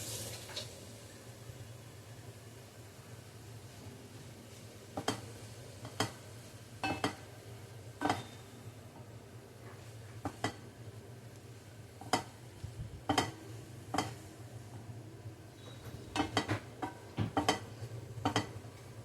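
Grated coconut is stirred in a pan over low heat, with a soft steady sizzle underneath and intermittent scraping clinks of a spoon against the pan, quiet and close.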